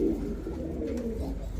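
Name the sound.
blue barless stretcher pigeon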